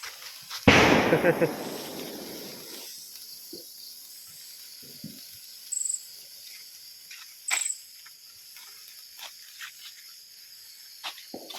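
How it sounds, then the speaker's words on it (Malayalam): A sharp firecracker blast rings out at a Vishu celebration in Kerala and crackles as it fades, followed by a few faint scattered pops and thuds in the background. "എത്ര പടക്കം"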